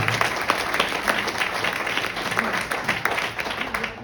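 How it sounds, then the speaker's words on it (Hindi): A crowd at a real estate company's presentation in Lucknow breaks into loud, continuous applause, dense overlapping claps held at an even level throughout. "एक बार जोरदार तालियां चाहेंगे उनके लिए।"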